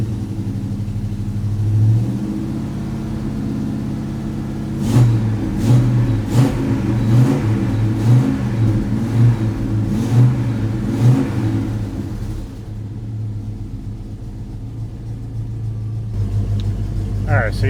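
A Mopar car engine idles while warming up, then revs in a series of throaty rises and falls before settling back to a steady idle, loud and close, with a person talking over parts of it.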